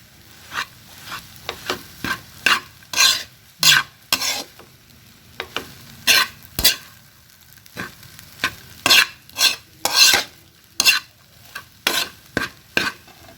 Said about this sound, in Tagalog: Haluin ko lang ng maayos.